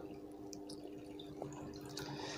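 Half a litre of boiled water with gum arabic poured while making blue ink, a faint steady trickle with a few soft drips and splashes, no talking.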